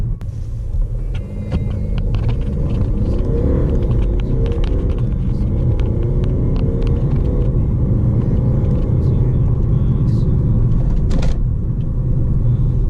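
A 2013 Mercedes-Benz CLA220 CDI diesel accelerates from a standstill to 100 km/h, heard from inside as a loud, constant engine and road rumble with no one speaking.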